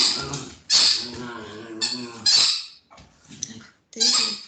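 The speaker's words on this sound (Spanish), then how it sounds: "Disculpen al perrito, está medio loco con su juguete." A small dog barks excitedly while playing with its toy, with several loud, close yips and barks coming in bursts and separated by brief pauses.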